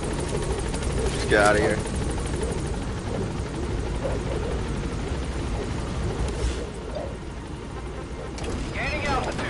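Video game helicopter flying in steady close rotor drone, with a voice speaking over it briefly.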